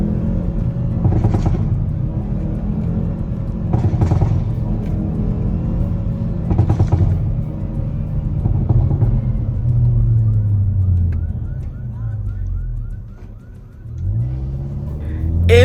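A 2024 Hyundai i30N on a road trip, its engine giving a loud steady low rumble from inside the car with a few brief revs rising over it, easing off near the end.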